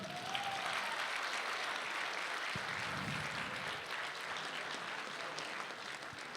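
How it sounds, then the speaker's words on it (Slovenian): Steady applause fills a school graduation dance hall from start to finish, a dense even patter of many hands, loud and sustained with no talking over it. "Super, en aplavz, prosim."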